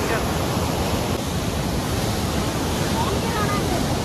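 Water rushing after being released, a loud, steady broadband roar like a torrent or surf that fills the whole stretch without a break.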